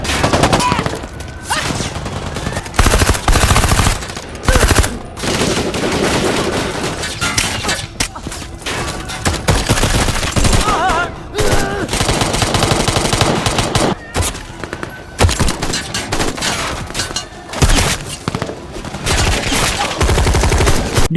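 Machine gun fire in an action film, where gangsters and henchmen trade heavy bursts of rapid shots at a warehouse. The shooting comes loud and dense in repeated volleys with short gaps.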